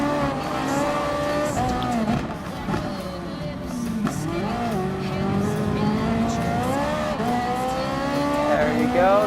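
A Ferrari 458 Italia GT3 races in Gran Turismo Sport, engine revving and shifting pitch up and down through gear changes with loud continuous engine tone; no speech is heard.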